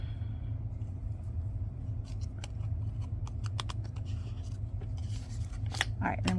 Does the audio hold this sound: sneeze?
no